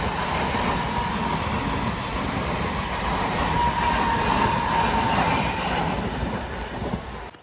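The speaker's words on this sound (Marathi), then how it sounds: "एक नंबरवर गाडी आली" A train arrives at a station platform, rumbling loudly and continuously nearby, a low roar with a faint high whine, easing off slightly at the end as it slows.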